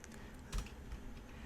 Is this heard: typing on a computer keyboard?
yes